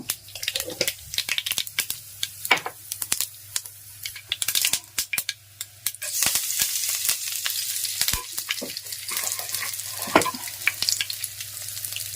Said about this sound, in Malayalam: അതിലേക്ക് നമ്മളിത് കടുക് ഇട്ട് കൊടുക്കുവാണ്.